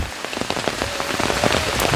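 Steady rain falls on surfaces close by, a dense patter of individual drops tapping irregularly at moderate loudness, with no voices.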